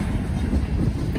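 A freight train rumbles past close by, a dense low roar with faint rattling, brief and continuous with no talk.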